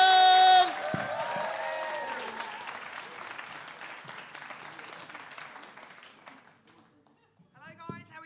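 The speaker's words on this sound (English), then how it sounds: "Start us clapping, we'll get the first act on." An audience at a comedy show applauds and cheers in a steady wash of clapping that slowly dies down, with a host's voice over the start and a few words at the end.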